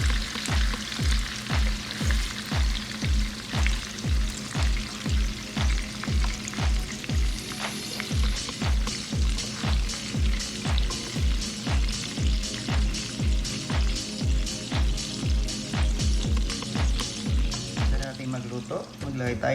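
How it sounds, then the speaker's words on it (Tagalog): Fish fillets fry in hot oil with a steady crackling sizzle, close and moderately quiet, overlaid by a regular rhythm of sharp scraping taps from a utensil. "Fry na natin."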